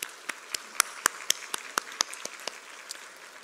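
Sparse, scattered hand claps ring out at a university graduation ceremony, a dozen or so sharp separate claps spread irregularly over a few seconds rather than a full ovation, fairly quiet and with no talking.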